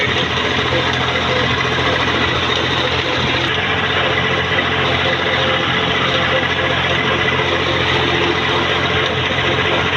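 A tractor engine runs continuously at a brick kiln, a steady loud mechanical drone holding even throughout with no break in level.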